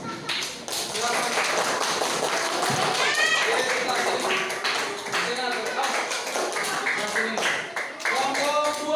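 A group of schoolchildren claps together in a steady, fast rhythm in a classroom, dense and continuous, with children's voices calling over it.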